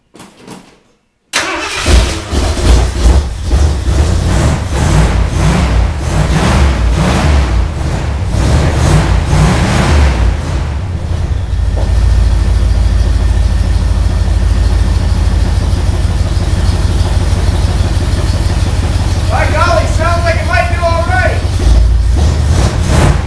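The engine of an old vehicle called the Brown Cow, running rough and flooded, cranks and catches after a brief silence, then idles loudly and steadily at close range, with people talking over it.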